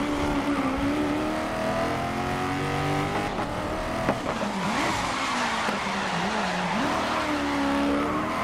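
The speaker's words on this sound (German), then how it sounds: "Ich musste jetzt in diese Drift reingehen." A GT race car in the racing game GRID slides into a drift on a street circuit, engine droning loudly as the tires squeal in long, wavering screeches that rise and fall.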